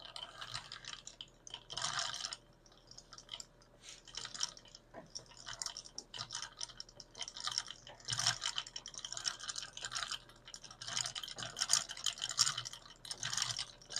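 An antique Finnish spinning wheel turning with a loose drive band, giving a quiet, close rhythmic chattering and clicking that pulses in repeated bursts about once or twice per second.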